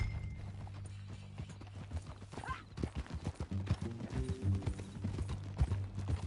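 Horse hooves clip-clop in a steady, uneven trot in the video game Red Dead Redemption 2, fairly close, over a low hum, with a brief whinny-like tone partway through.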